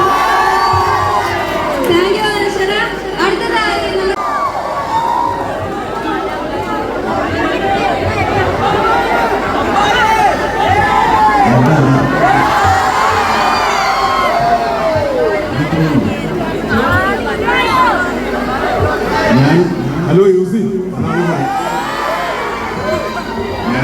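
A college crowd cheering, whooping and shouting continuously, dense and loud throughout, with a voice speaking through the noise.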